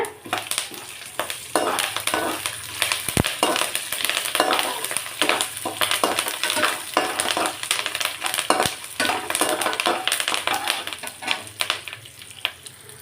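Curry leaves, chana dal, urad dal and roasted peanuts frying in oil, heard as dense crackling sizzle with frequent scraping stirs and a couple of sharp metallic clinks.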